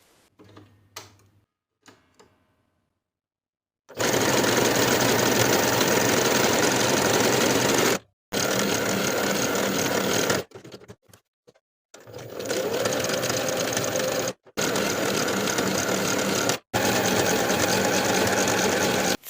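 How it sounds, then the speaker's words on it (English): A sewing machine runs a triple straight stitch on denim in several loud bursts of steady mechanical stitching, stopping briefly between runs, with faint handling noises before it starts. "take it to the sewing machine and sew on top of my traced lines"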